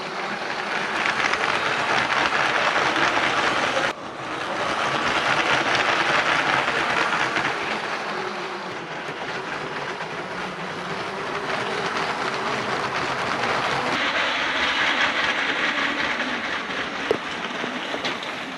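A LEGO toy train runs along its track on a mountain treehouse layout, giving a steady, continuous rolling rattle that fills the whole stretch with small bumps and shifts, no voices present.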